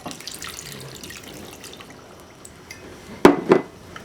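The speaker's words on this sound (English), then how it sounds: "I'm going to add a cup of water" A cup of water poured into a small pot on top of brown sugar gives a steady, soft trickling hiss, followed near the end by two sharp knocks of cup or pot, close and with no talking.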